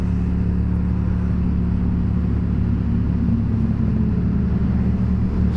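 A motorcycle engine runs loud and close without a break, a steady low rumble with revving swells while the rider attempts wheelies on a road.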